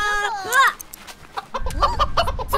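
A chicken in The Sims 3 Country Livin' clucks and squawks in a quick series of close, bright calls, with rising and falling tones and short gaps between them.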